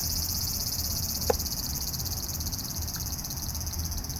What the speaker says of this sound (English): I think they're cicadas.